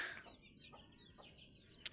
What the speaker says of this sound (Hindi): ये मेरा लाल वाला मुर्गा है।